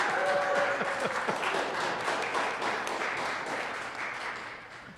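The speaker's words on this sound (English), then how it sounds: "You can applaud now." An audience at a College of Chemistry celebration of Nobel laureates breaks into full applause, dense and steady, tapering gradually, with a faint voice briefly audible at the start.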